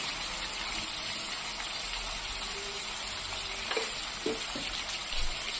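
Onions frying in a pan with a spoonful of salt, a steady close sizzle and hiss throughout with a few soft stirring scrapes near the end.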